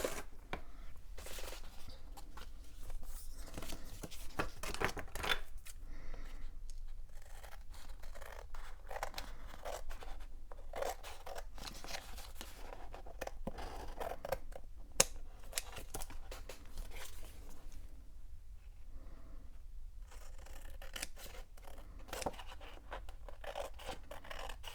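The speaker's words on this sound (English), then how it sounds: "let's do some quick little trimming here" Scissors snip steadily through a trimming job for about twenty-five seconds, a dense run of quiet cutting and scratching with occasional louder crisp snips, no talking.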